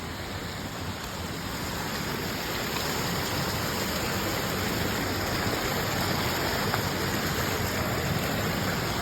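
Water rushing over a check dam, a loud unbroken roar of flowing water heard close by outdoors, steady and even throughout with no voices.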